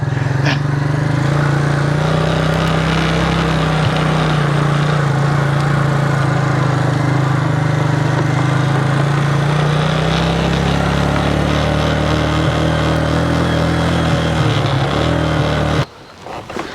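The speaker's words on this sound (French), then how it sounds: "on va y aller en quad" A quad bike engine runs while riding, a loud, steady, droning motor held close for a long stretch before cutting off abruptly near the end.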